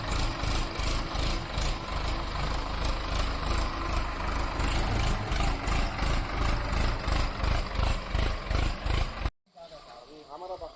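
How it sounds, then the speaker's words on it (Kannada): A timber truck loaded with logs idles and reverses with a steady low diesel rumble and rhythmic knocking, loud and close, cutting off abruptly near the end to a quieter background. "ಅದಕ್ಕೆ ಇಲ್ಲಿ ಇವಾಗಲಿಂದನೇ ರಿವರ್ಸ್ ಹೊಡೆದು ನಿಲ್ಲಿಸ್ತಿದ್ದಾರೆ"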